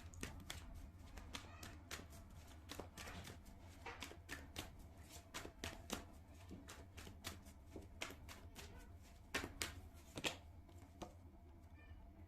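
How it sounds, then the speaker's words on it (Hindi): Tarot cards being shuffled and drawn during a reading, soft close riffling and tapping in quick irregular bursts, faint and steady throughout, with no talking. "कुछ और कार्ड्स भी निकालूंगी मैं।"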